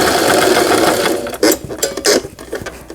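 A Brother XL5500 sewing machine runs under repair, stitching in short rapid bursts with a busy mechanical whir and clacking needle, stopping and restarting several times, close and fairly loud.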